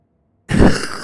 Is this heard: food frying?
no